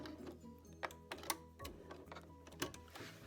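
A sewing machine runs short back-and-forth bursts of back stitching to finish a seam on a homemade wash bag, a quiet mechanical ticking and whirring with small clicks, close and alone.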